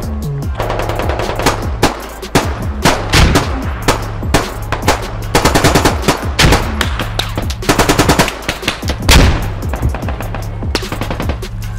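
Rapid automatic gunfire from weapons in the video game Squad, loud and close, firing in dense bursts and sustained volleys with near-continuous shots across the whole stretch.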